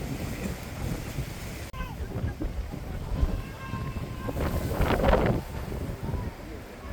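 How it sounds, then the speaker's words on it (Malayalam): Strong wind gusts at the Parunthumpara hilltop viewpoint in misty, rainy weather, roaring and buffeting the microphone as a steady broadband rush that swells louder midway, with a voice faintly heard underneath. "അവിടുത്തെ കാറ്റ് രക്ഷയില്ലായിരുന്നു."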